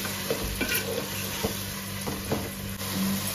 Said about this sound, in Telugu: పుదీనా కొంచెం ఫ్రై అయిన తర్వాత రుబ్బుకోండే మసాలా వేసుకొనేస్తాము.